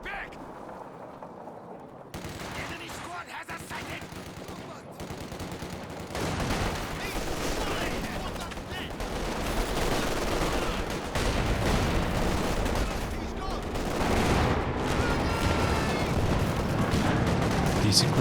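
Dense, sustained gunfire and scattered blasts from a Company of Heroes 2 2v2 battle, continuous and building louder over the span with a voice talking over it.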